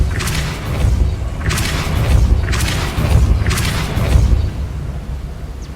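Repeated heavy whooshing booms of the Depulso force spell cast in Hogwarts Legacy, four loud pulsing blasts about a second apart over dense, rumbling game ambience.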